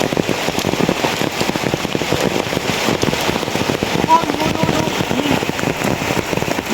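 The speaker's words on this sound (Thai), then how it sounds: "ตอนนี้คือ ฝนตกหนักเกินไปครับ" Heavy rain pours steadily in an outdoor rural setting, a dense, continuous hiss with scattered crackling drops, loud and close, running unbroken throughout.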